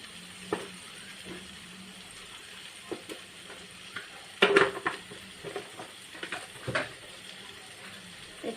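Frying and stirring in a pan after salt goes in, a faint continuous sizzle punctuated by scattered spatula scrapes and knocks against the pan, with one brief louder burst of sizzling midway, close by.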